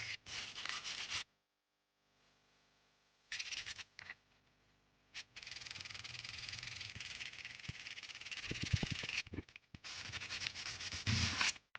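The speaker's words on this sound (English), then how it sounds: "I just had to sand it down a bunch again to get it super smooth" Steady hand sanding of filler rasps back and forth, close and fairly loud, with a few short pauses between long stretches of scraping.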